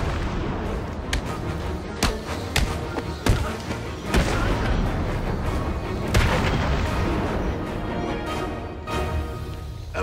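Loud booming gunshots in a Batman video game ring out repeatedly across a dense, continuous bed of game noise, several sharp blasts standing out over the rumble.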